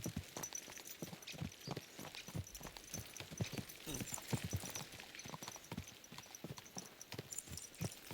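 Steady clip-clop of horse hooves trotting on a hard surface in the video game Kingdom Come: Deliverance II, brisk and continuous, with faint background ambience.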